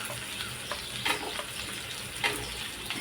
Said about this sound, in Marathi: आता ह्याच्यात मी लसणाच्या पाकळ्या घालते